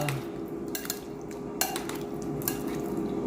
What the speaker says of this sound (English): Make sure all the chicken and the seasoning mix together, marinade